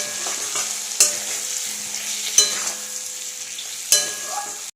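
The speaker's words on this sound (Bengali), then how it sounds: "কষবো একটু জল দিয়ে।" Katla fish curry with potato sautéing in a pan with coriander powder, turmeric, chilli powder and a splash of water: a steady sizzle broken by three distinct scraping stirs, close and fairly loud, with no talking.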